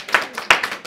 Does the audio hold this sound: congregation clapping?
yes